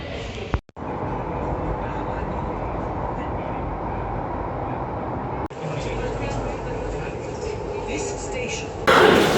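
A loud, steady rumble of a Delhi Metro train running at Connaught Place, continuous throughout, with a brief dip early on and a louder surge at the very end.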